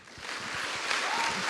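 An audience at the Kunsthal Rotterdam applauds Thierry Loriot at a Viktor&Rolf masterclass. The clapping is a dense, steady wash that builds slightly and holds fairly loud, with no speech over it.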